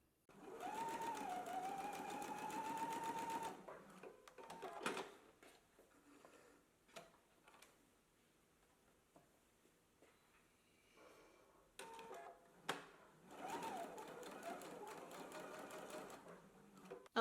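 A home sewing machine stitches pocket reinforcements on a garment, running in steady bursts: a long run at the start, a quieter pause with small clicks and handling noises, then another sustained run near the end.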